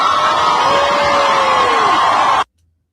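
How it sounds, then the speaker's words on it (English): A large crowd at a street gathering cheers and shouts as a billboard picture is pulled down, a loud sustained roar of voices with a rising whistle-like tone, then it cuts off abruptly. "when he turns it up, people cheer"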